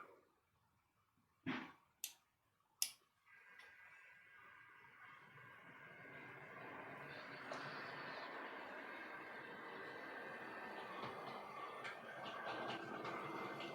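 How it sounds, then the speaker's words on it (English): A model railway train runs along its track through sensor blocks, a faint steady rolling hum that builds slowly after a few sharp clicks at the start, with no talking. "we'll move the train through block 1 to block 2 to block 4"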